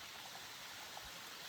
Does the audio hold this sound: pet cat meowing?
no